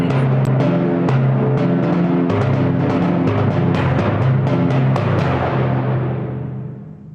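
Orchestral timpani rolling and struck in a steady run of pitched booming notes, loud and sustained alone for about six seconds before the resonance fades away at the end.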